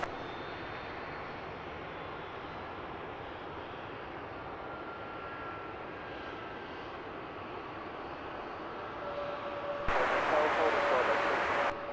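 A Wizz Air airliner lands at Luton Airport, a steady broad engine roar at a distance that swells louder near the end, with occasional radio chatter.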